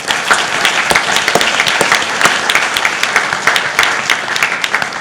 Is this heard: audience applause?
yes